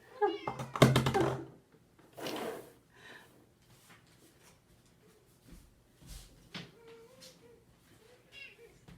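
A cat meows close by, a loud drawn-out call at the start followed by a shorter one, then quieter knocks and faint rustling, with no talk.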